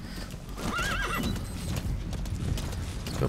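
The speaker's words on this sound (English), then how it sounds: "Come on, horse. Let's make this easier." A horse in Metal Gear Solid V: The Phantom Pain galloping with rapid, loud hoofbeats and a clear whinny partway through, under game background sounds.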